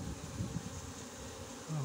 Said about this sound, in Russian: Вот, пчелы.